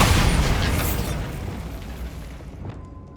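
A Bombarda spell explodes in the video game Hogwarts Legacy as a loud, broad burst up close, then rumbles and fades over about three seconds, with no talk.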